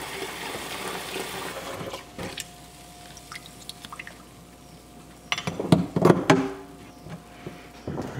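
Warm water splashing and trickling into a bucket, quiet at first, then a louder burst of pouring and dripping near the end.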